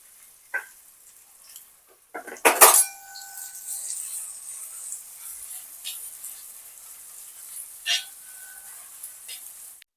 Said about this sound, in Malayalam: എണ്ണ ചൂടായിട്ട് സവാള വഴറ്റിയെടുക്കുക